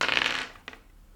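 Dice rolled for the board game Cabritos by Devir: a bright clattering rattle for about half a second, then a single small click as they settle, close and fairly quiet.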